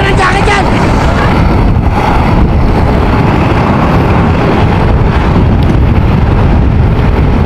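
Loud, constant cold wind roars and buffets an SJCAM SJ5000X Elite action camera microphone, a dense rushing noise with no letup.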